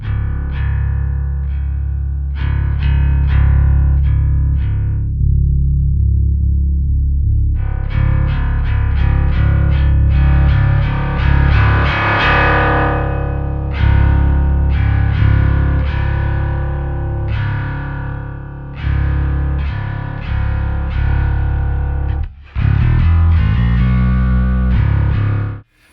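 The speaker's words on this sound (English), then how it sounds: "That is the most unique, cool bass tone." A bass guitar runs through a Tech 21 dUg Pinnick DP3X pedal, giving a heavily distorted, chorused tone. Sustained low notes alternate with bursts of bright, gritty strummed chords over a long, loud, continuous passage.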